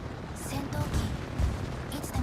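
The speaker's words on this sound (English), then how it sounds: "Ooh, 3 torpedo hits." Torpedo hits on a warship in World of Warships, a dense rumble of deep booms and muffled explosions layered over continuous battle noise and game music, with someone talking over it.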